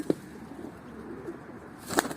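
Domestic play pigeons, heavy birds reluctant to fly, coo quietly in the background, with a short wing flap at the start and a louder flutter of wings near the end.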